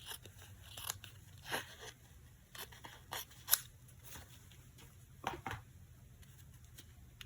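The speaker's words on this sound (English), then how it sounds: "Take a facial tissue and cut a small square of it." Scissors snipping a small square from a soft facial tissue, a handful of faint, sparse crisp cuts with quiet pauses between them, close by and alone.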